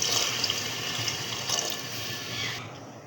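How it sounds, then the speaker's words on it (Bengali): Water pours steadily into a pot of spiced lentils, a continuous close splashing rush that cuts off abruptly near the end, with no talking. "ডাল এবার পানি অ্যাড করে দেবে"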